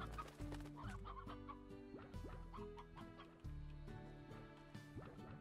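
Hens clucking in the video game Slime Rancher, a close, busy stream of overlapping clucks and short squawks with no talk.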